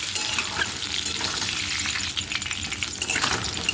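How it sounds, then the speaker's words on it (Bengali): Cubed potatoes fry with salt and turmeric in a pan for an egg and pointed gourd dish, giving a steady close sizzle with scraping stirs and light metallic clinks throughout, no voices. "হলুদ দিয়ে আর নুন দিয়ে আরও দু তিন মিনিট আলুগুলো একটু লাল লাল করে ভেজে নেব"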